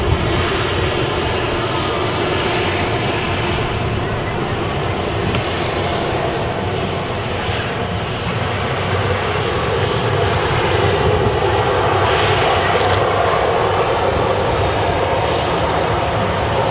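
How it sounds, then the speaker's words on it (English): An Aer Lingus A320neo airliner begins its takeoff roll at Manchester Airport, a steady, loud engine roar with broad rumble that holds constant, heard from the airfield side without talk. "Aer Lingus Neo, he's started his takeoff roll."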